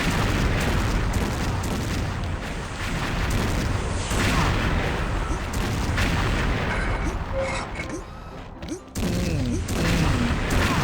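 Heavy gunfire from XShot rattles continuously in dense, booming bursts, loud and close, with a short lull near the end before firing resumes.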